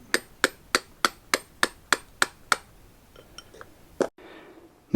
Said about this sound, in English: I'm using the punch and the hammer to drive out the inner bearing race.